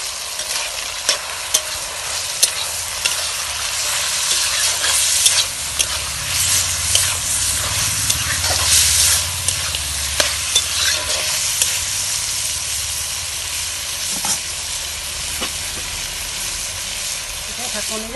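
Duck meat is stir-fried in a pan with salt, turmeric, cumin powder and coriander powder. A loud, continuous sizzle runs throughout, broken by repeated scraping strokes of a spatula.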